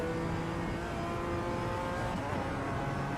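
Race car engine in iRacing at the Nürburgring Nordschleife, droning steadily with harmonic whine and a slight rise in pitch as it gears up, continuous and loud throughout, with no talking.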